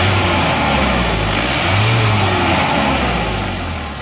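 A car engine revs hard and close, a loud continuous roar that swells and holds before easing slightly at the end, with no talk over it.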